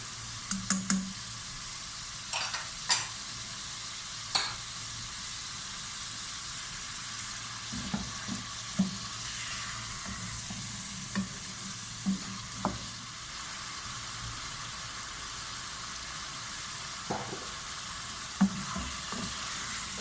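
Ginger paste fries in a pan for chicken Manchurian, a steady soft hiss of sizzling oil, with light scrapes and taps from stirring scattered throughout.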